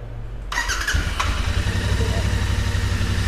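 A Royal Enfield Interceptor 650 motorcycle engine cranks and fires into a steady, rumbling idle, heard up close after a brief low hum, with a voice talking over it.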